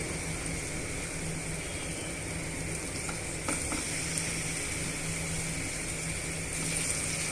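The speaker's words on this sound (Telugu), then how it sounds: "ఇప్పుడు మనం ఇందులోనే శుభ్రంగా వాష్ చేసుకున్న చికెన్ పీసెస్ని యాడ్ చేసుకుందామండి" Chicken pieces frying in ginger garlic paste in a pan, a steady soft sizzle throughout with faint stirring clatter, close and fairly quiet.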